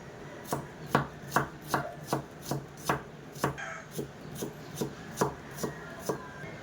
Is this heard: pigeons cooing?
no